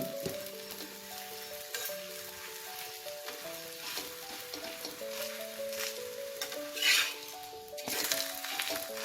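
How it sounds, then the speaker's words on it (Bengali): A radish-stuffed paratha fries in a little white oil on a pan, with a soft, steady sizzle and occasional clinks and scrapes of a utensil, heard alone under faint background music. "এইভাবে আমি প্রত্যেকটা পরোটাগুলোকে ভেজে নেব।"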